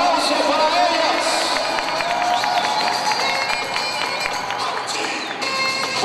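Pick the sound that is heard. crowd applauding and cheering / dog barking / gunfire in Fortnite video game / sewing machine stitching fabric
crowd applauding and cheering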